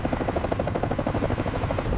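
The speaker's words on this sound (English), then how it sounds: "From above, the helicopter roars," A helicopter roars steadily overhead above dry savanna grassland, its rotor chop pulsing in a fast, even rhythm, loud and close with no talk.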